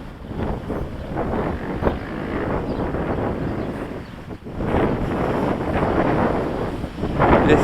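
Heavy wind buffeting a microphone on a windy day as an Eachine H8 Mini drone flies, a continuous loud rumbling roar with gusty swells and a brief dip midway.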